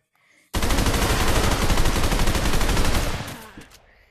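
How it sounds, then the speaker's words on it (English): An AR rifle fired in a rapid, sustained burst of shots lasting about three seconds, very loud and close, with no talking over it. "That's how you shoot your AR."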